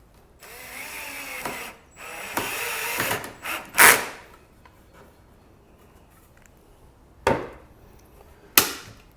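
Hand driver turning screws into the corners of a wooden frame for a cheap DIY acoustic absorption panel, heard as close rasping, creaking bursts with a few sharp clicks and knocks, then quieter pauses between turns.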